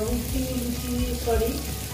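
Chopped onions fry steadily in a pan for an egg and okra curry, a continuous close sizzle and crackle with a voice humming or speaking faintly underneath.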